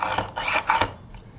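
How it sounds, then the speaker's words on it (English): A small hand drill with a tiny bit boring into Premo polymer clay, giving a few short, close, raspy scraping strokes in quick succession. "hand drill here with a fairly tiny little drill bit on the end"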